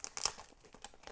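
Plastic packaging of a craft supply pack crinkles and crackles as it is opened, a close, brief burst of sharp rustling that tapers into softer, scattered crinkles.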